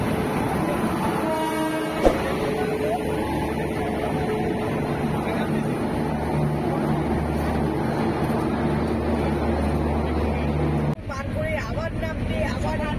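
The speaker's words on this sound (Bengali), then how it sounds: "আর অনেকক্ষণ অপেক্ষার পর শেষমেশ আমাদের ট্রেন চলে এসেছে।" A train pulls into a station with a deep, continuous rumble of rolling wagons and a brief horn-like tone early on, while people talk nearby.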